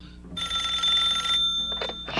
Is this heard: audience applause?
no